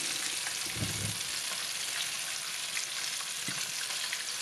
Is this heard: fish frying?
yes